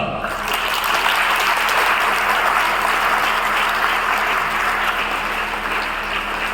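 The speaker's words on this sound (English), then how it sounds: "Shall we clap for ISRO?" Indoor school audience of students applauding the Chandrayaan-3 success, a dense, sustained round of clapping that holds steady for several seconds, loud and close, with faint voices underneath.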